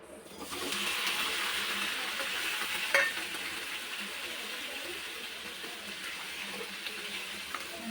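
Chopped tomatoes land in a hot oiled pan for tomato pachadi and settle into a steady, close hiss of frying, with a brief stirring clatter partway through and no talking.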